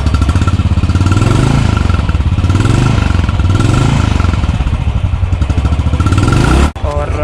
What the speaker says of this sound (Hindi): तो आपको मैं जल्दी से इसका एग्जॉस्ट का साउंड सुना देता हूँ।